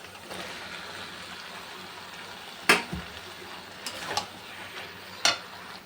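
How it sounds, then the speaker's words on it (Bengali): Vegetables stir-fried with dried fish (shutki) in a pan. A close, continuous frying sizzle fills the scene, punctuated by a few sharp metallic clinks of a spatula against the pan. "মাছটা দিয়েও কষানো হয়ে গেছে তেল বেরিয়ে গেছে এবার সব সবজিটা দিয়ে দেবো"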